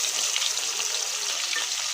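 Tilapia fish heads frying in hot oil give a steady, dense sizzle with a bright crackling hiss that holds evenly throughout, close and fairly loud with no voices.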